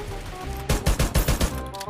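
Rapid bursts of automatic gunfire in the mobile battle royale game Free Fire, about six loud, close shots in quick succession with game ambience before and after, no talking.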